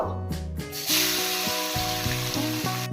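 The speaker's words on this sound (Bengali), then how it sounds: "এখানে আমি দুশো গ্রাম পেঁয়াজ নিয়েছি পেঁয়াজটাকে ভালোভাবে কুচিয়ে নিয়েছি এবার তেলের মধ্যে দিয়ে দেব" Two hundred grams of finely chopped onions hit hot oil and fry, a loud, steady close sizzle that runs throughout alongside a clanking pan and stirring.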